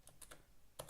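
Keystrokes on a computer keyboard during live coding, a few quick clicks near the start and a short burst near the end, close and fairly quiet with no talking.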